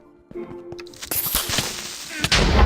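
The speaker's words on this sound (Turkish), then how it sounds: "ufak bir patlama oldu ya sorun değil o" Several sharp explosive bangs and blasts in Minecraft in quick succession, growing louder toward the end, with game-like effects and a brief voice underneath.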